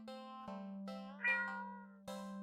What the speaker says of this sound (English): the cat meows almost pitifully at you